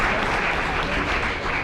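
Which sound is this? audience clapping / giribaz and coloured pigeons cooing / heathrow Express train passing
audience clapping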